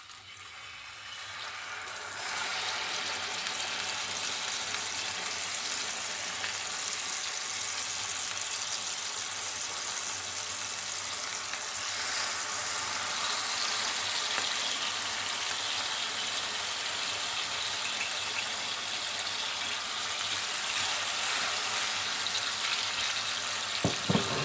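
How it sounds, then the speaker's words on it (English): Marinated pork chops fry in melted butter in a pan, a steady loud sizzle that starts abruptly and holds evenly for over twenty seconds with no talking. "you take your pork chops that have been marinating and you're just going to place"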